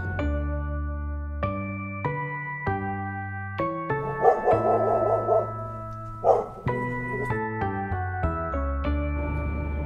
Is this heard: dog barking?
yes